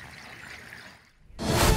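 Floodwater rushing across Aluru road during heavy overnight rain in Chitradurga, a steady wash of flowing water that dips briefly, then returns as a loud, close, broadband roar.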